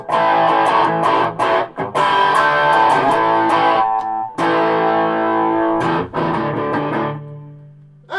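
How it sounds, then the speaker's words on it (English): Distorted electric guitar chords played through a Vox AC15 amp's tremolo with a pulsing, wavering volume, several strums ringing loudly before a fading final note. "tremolo, depth and speed"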